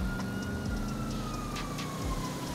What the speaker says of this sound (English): once you hear siren like that